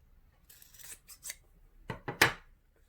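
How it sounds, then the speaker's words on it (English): Scissors snip excess fabric from a seam allowance on a teddy bear pattern, a few quiet close cuts followed by three sharper, louder snips in quick succession, with no talk. "I'm going to snip the excess fabric away from the seam allowance here at point E."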